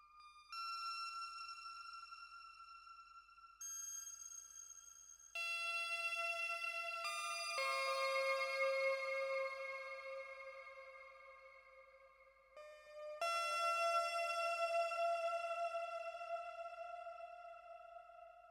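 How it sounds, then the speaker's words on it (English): A Behringer 2-XM synthesizer plays a sustained ambient drone drenched in reverb and delay, layered tones shifting and stacking over about eighteen seconds, loud and clean with no voices. "So with that deep atmospheric drone in the background,"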